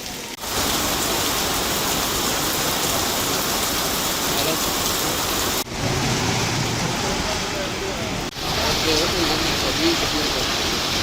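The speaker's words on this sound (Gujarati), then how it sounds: "ગામોમાં ધોધમાર વરસાદ પડ્યો છે" Heavy rain pours down steadily over villages around Rajula in a dense, continuous roar, with a couple of brief dips.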